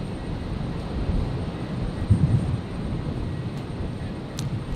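Air New Zealand Airbus A320neo lining up for takeoff at stormy Brisbane International Airport, heard as a steady, fairly loud low rumble with wind noise and a brief swell partway through.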